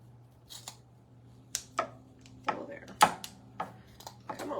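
Scissors snip deco mesh for a Dollar Tree wreath, giving several crisp metallic clicks and cuts at irregular intervals, close and fairly quiet over a faint low hum.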